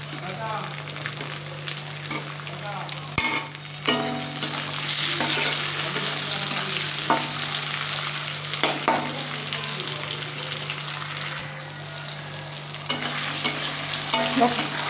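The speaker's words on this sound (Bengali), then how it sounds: "দেখো এখানে পেঁয়াজটা আমার ভাজা হয়ে গেছে। এবার আমি দিয়ে দেবো টমেটো।" Tomatoes stirred into frying onions in a pan, a steady sizzle with repeated scrapes and clicks of the spatula throughout, under a constant low electrical hum.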